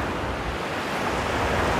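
Sea waves wash onto the shore at Dzhemete in a loud, unbroken surf roar mixed with wind buffeting the microphone.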